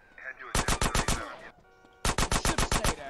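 Rapid automatic gunfire in Grand Theft Auto: San Andreas, two loud bursts of about six evenly spaced shots each, separated by a short pause, with faint game noise between them.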